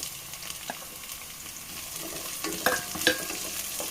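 Chopped green chillies and capsicum stir-fry in a pan for Yemeni mandhi, a low continuous sizzle broken by a few scraping stirs near the end.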